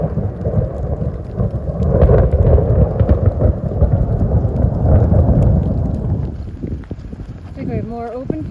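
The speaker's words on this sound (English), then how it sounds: "some thunder and lightning just came by that literally shook my body with how strong it was" Loud, close thunder from a strong thunderstorm over open fields in a state forest rolls and rumbles for several seconds with rain, then fades, and a voice speaks briefly near the end.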